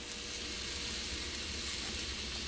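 Onions and garlic sizzling in melted butter in a pan, a steady close hiss of frying that stays even and continuous throughout.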